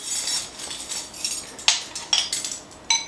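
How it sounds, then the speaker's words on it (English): Melted butter gets stirred into cookie crumbs in a bowl, heard as close, irregular clinks and scrapes of a utensil against the bowl, with sharper taps now and then and no talking. "take 2 tablespoons of butter and mix it in"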